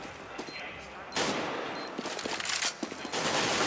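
Gunfire in Counter-Strike: Global Offensive on de_Inferno during a DreamHack Winter 2014 match, with bursts of rifle shots and loud sharp cracks across the round under crowd and caster noise.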